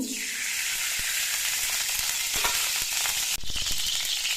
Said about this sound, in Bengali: এবার এই কড়াইয়ের মধ্যে দিয়ে দিচ্ছি দু চামচ পরিমাণ ঘি